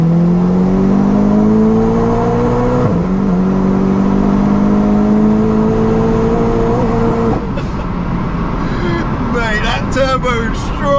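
Turbocharged 750bhp four-wheel-drive Seat Leon Cupra pulling hard through the gears, loud in-car engine note climbing steadily, with shifts, then turbo and exhaust chatter at the end while people talk excitedly.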